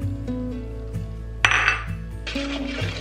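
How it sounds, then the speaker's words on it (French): Salt being stirred into water in a small container, with light clinks and taps of a utensil against the vessel at an irregular rhythm over a steady background hum. "Et je vais mélanger pour le dissoudre"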